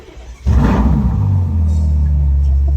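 A Ferrari GTC4 Lusso V12 engine cranks and fires, settling into a loud, deep, steady idle rumble close by.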